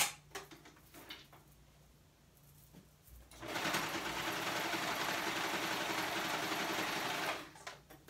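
A Brother cover stitch machine sews a color-blocked Tuesday Hoodie, running in one loud steady burst of about four seconds after a quiet stretch of small handling clicks.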